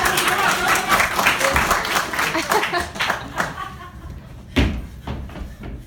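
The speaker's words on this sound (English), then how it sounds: "let's give a round of applause." A live audience at a performance gives a round of applause, a dense steady patter that thins out over several seconds, with a voice and a single sharp knock near the end.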